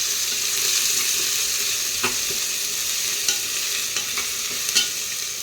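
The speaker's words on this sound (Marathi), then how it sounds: "एक चमचा अद्रक लसणाची पेस्ट टाकली आहे व्यवस्थित परतवून घ्यायचं आहे" A spoonful of ginger-garlic paste sautés in a pan for chicken biryani, giving a loud, even sizzle with a few scattered scrapes and taps from stirring. No one speaks.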